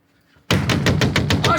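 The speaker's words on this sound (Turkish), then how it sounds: "Kapıyı kıracaksın." A man bangs his fist hard on a closed door in a domestic scene from a Turkish drama, about eight loud heavy knocks in rapid succession, close and forceful, after a brief quiet.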